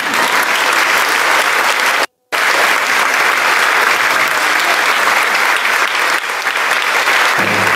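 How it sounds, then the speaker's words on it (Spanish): Loud, sustained applause from a congregation at a Franciscan anniversary celebration, dense clapping throughout with one abrupt brief dropout, continuing steadily to the end. "¡Un aplauso, pues!"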